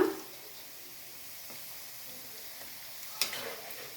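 Sliced bitter gourd frying in oil makes a faint, steady sizzle throughout, with a couple of small clatters partway through. No one speaks.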